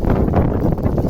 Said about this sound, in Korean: 바람 소리 때문에 제 목소리가 잘 안 들리시죠?